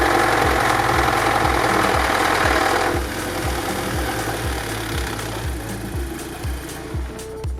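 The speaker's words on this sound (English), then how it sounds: "Once I run the engine back up, I will investigate the rattling noise on startup." A Volkswagen Golf GTI engine runs after startup with a rhythmic ticking rattle, loud and close at first and then settling to a steadier, quieter idle.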